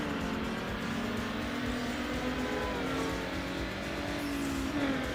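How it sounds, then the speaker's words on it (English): Race car engine in Need for Speed Underground drones steadily throughout, a continuous revving hum with shifting pitch and no talk over it. "Car sounds really good."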